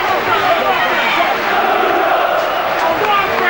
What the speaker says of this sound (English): Chants of Bruno,